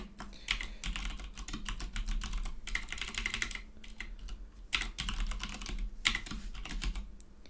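Quick, close clatter of keys on a computer keyboard while writing JavaScript code, coming in steady bursts with brief pauses and no voices.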